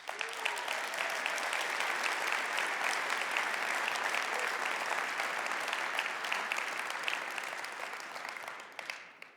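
Sustained applause from a large keynote audience at a conference livestream, steady dense clapping throughout that fades slightly toward the end.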